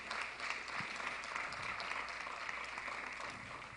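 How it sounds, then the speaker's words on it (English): Audience gives a sustained round of applause at a mayoral candidate town hall, even, continuous clapping from a crowd, faint and held at a steady level throughout. "Let's give them a round of applause"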